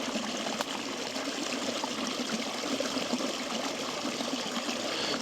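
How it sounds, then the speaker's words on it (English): A steady stream of running water rushes and trickles outdoors in a village, a continuous close wash of sound with no voices over it. "I hear running water."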